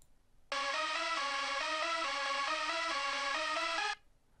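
A bright, buzzy Magnalead synthesizer lead plays a short stepping melody of sustained notes, clean and alone, ending abruptly.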